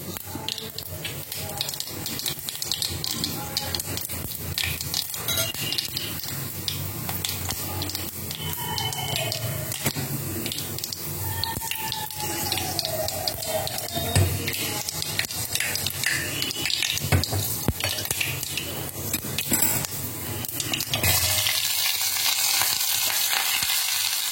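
Fenugreek and sliced radish sauté in an oil-filled pan for radish sambar, a steady close sizzle lasting throughout with occasional scraping stirs and faint background voices.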